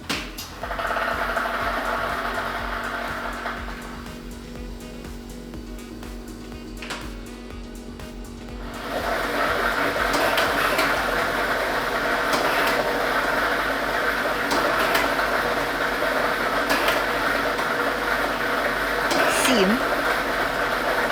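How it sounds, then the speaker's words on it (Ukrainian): A lottery ball drawing machine is switched on during a state lottery draw, its mechanism whirring and balls rattling continuously and growing louder midway, while a presenter speaks over it. "І ми вмикаємо лототрон."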